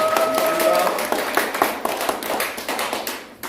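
An audience at a lecture claps in a dense burst of applause that gradually thins out into scattered, separate claps, with faint voices underneath.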